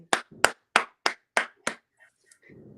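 Hands clapping six times in a steady, even rhythm, crisp and close, followed by near silence and a faint background murmur.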